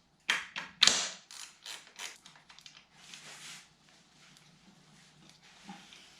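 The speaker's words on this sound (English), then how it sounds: "To make some more clearance, I'm gonna take off this bracket here" Work on the engine of a Suzuki GSX-R Hayabusa motorcycle: a bracket is unbolted, giving a run of close, sharp metallic taps and ratchet clicks that thin into softer handling rattles.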